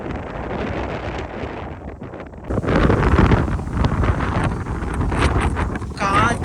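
Strong wind buffets the microphone in loud, rumbling gusts at the Ilaveezhapoonjira hilltop in Kottayam, Kerala, with a voice speaking underneath.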